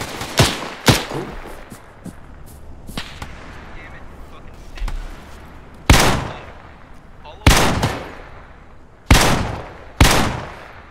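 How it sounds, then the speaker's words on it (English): Heavy gunfire during an amphibious assault in a military video game: sharp loud cracks and short bursts, some near and some distant, spaced irregularly with echoing tails and faint background chatter. "Taking a lot of fire from somewhere."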